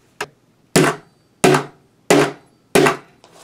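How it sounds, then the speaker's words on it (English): A hammer strikes a metal bottle cap laid on a hard surface to flatten it, five sharp separate blows in a slow, steady rhythm, close and loud, each ringing briefly before a lighter final tap. "hit it with the fucking hammer a few times"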